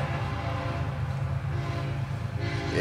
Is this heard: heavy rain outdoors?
no